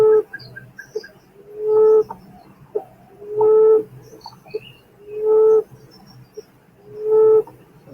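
A bird repeats a clear, rising whistled call four times at steady intervals, each note swelling and fading, with quieter chirps between.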